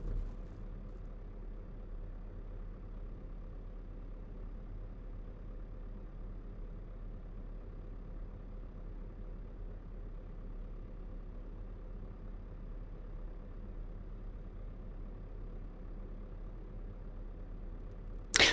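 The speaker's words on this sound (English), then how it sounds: "let's start our engine" A truck engine in Euro Truck Simulator 2 idles with a steady, even low rumble for the whole stretch, with no speech, ending in a brief sharp click.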